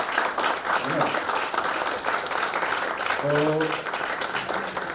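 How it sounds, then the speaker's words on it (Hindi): An audience at a business event gives dense, steady applause that fills the room, with a voice speaking over the clapping. "सबसे पहले तालियों की गड़गड़ाहट से आप लोग का स्वागत होना चाहिए, है ना।"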